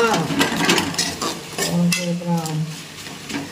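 Onions and masala for egg curry being stirred as they sauté in a pan, with rhythmic close scraping strokes over a soft sizzle.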